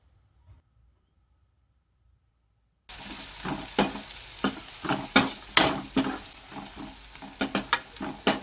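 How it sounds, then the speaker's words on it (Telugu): Onions with curry leaves and a pinch of salt fry in a village-style kitchen pan, starting after a near-silent opening with a loud, close sizzle broken by repeated clattering stirs of a spoon. "ఆనియన్స్ అయితే తొందరగా వేగడానికైతే కొంచెం సాల్ట్ వేసుకున్నాను మంచిగా వేగుతాయి"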